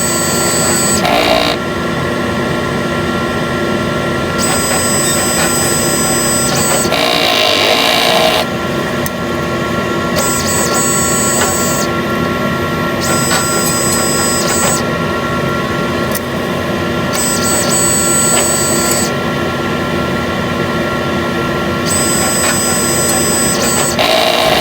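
A sublimation printer runs its head-cleaning cycle, giving a steady mechanical whir and hum broken by repeated bursts of bright, hissing noise at roughly regular intervals, close and loud with no talking.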